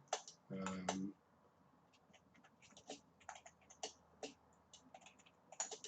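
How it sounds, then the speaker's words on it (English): Light typing on a computer keyboard, with soft irregular clicks spread across the stretch, preceded by a brief tonal noise at the start. "I'm just typing it out."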